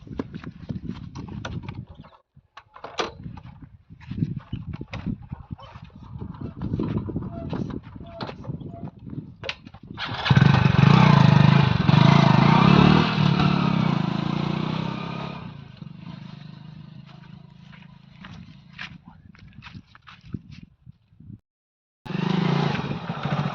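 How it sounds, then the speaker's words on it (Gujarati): A motorcycle engine starts up and runs loudly nearby for several seconds, then idles and cuts out briefly before resuming, with a raspy steady drone and some background noise. "હા હા બાઈક તો આવે છે ખૂબ"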